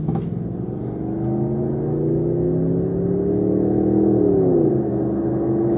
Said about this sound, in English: Can you guys hear those engines?